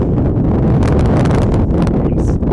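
Strong wind buffets the microphone in a constant loud roar, with gusty rumbling throughout, outdoors at a college football game.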